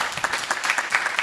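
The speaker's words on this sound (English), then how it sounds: "A round of applause." Audience at a startup pitch event applauds briefly, a dense burst of many hands clapping at once, steady and fairly loud for just over a second.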